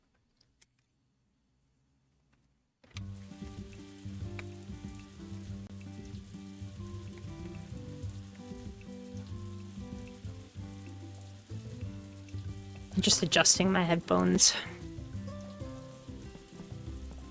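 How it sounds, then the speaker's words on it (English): Steady rain falling in the RuneScape game world, a continuous soft hiss lasting throughout, with a brief louder burst of other sound near the end. "More rain today, eh?"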